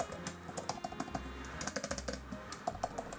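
Crisp keystrokes on an Apple Magic Keyboard for iPad Pro, a quick run of light clicky taps with brief pauses, close and clear, no voices.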